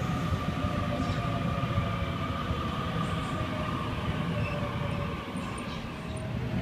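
A Sydney Trains train, set H53, passes platform 4 at Auburn station with a loud, steady rumble and whine of motors and wheels close by, heard on its own.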